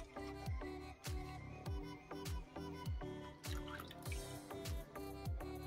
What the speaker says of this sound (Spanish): ahora voy a agregar la leche Carnation.